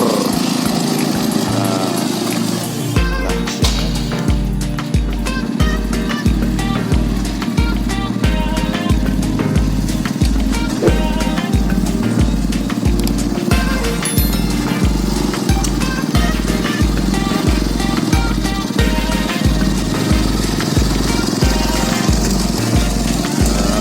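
A homemade mini rice-field tractor built around a motorcycle engine chugs at a steady idle, its single-cylinder thump firing in a fast, even rhythm close by, loud and unaccompanied by speech.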